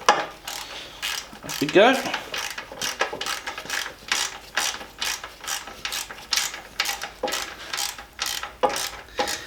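Ratchet wrench tightening a Classic Mini lower suspension arm fitting, compressing the bush, a close run of rapid metallic clicks in quick repeated strokes, with a brief spoken remark partway through.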